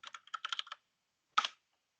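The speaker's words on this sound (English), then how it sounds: "I'll type it in here." Fingers type on a computer keyboard, a quick close run of about ten light clicks, then a short pause and a final pair of keystrokes, with no other sound.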